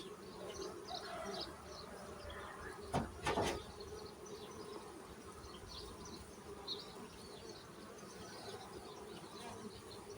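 Honeybees drone steadily around a hive just given a new queen. The low, continuous buzzing is broken by a couple of brief knocks near the start.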